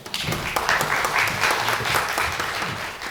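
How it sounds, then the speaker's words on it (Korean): A crowd applauds steadily for a few seconds at a construction management conference, welcoming a speaker: a dense, even wash of many hands clapping at once. "박수로 맞아주시기 바랍니다"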